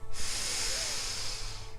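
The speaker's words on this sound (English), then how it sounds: "You're simply breathing in through your nose" A single steady inhale through the nose, close and hissy, lasting over a second with a soft airy rush and no talking.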